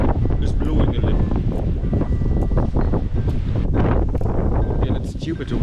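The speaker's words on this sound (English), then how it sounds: "The wind is blowing a little." Wind blows across a sunny garden in Argentina, loud gusty buffeting rumble against the microphone throughout, with speech faintly underneath.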